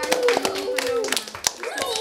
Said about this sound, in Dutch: Ja, we hebben wel een applaus waard, denk ik.